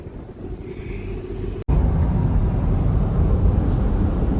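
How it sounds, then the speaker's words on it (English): Steady, loud cabin rumble and road noise come from a 2005 Kia Sorento cruising on the I-4 highway. A brief dropout interrupts it, then the rush continues with no talking. "I'm on I-4 now. Excuse me. I'm driving that Kia Sorento."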